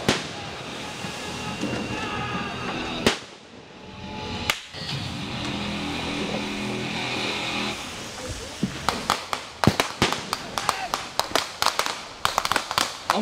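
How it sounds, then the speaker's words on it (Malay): Artillery and mortar fire at a military engineer regiment's river-crossing demonstration: booming blasts early on, then a dense run of sharp, cracking reports in the closing seconds, heard from a distance over steady outdoor rumble. "Tembakan artileri dan mortar yang dikoordinasikan di peringkat division adalah bertujuan melemahkan kekuatan musuh"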